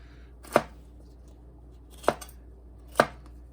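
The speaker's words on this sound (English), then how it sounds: "you can just go ahead and cut these up, throw them right in the vacuum bag there" A knife chops through hot peppers for fermented hot sauce, three sharp close cuts spaced about a second apart on a cutting board, alone in a quiet kitchen.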